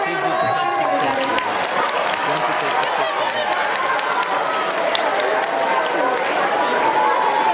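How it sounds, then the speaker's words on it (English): A school audience at a Terry Fox event at Centennial Sr. Public School in Brampton claps and cheers for a student walking up, with sustained crowd applause, shouting and chatter running loudly and evenly throughout. "Give Dylan a round of applause, everybody."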